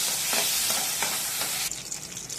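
Crushed raw onions and whole spices frying in a pan, a dense close sizzle with several stirring scrapes, then settling into a softer crackle.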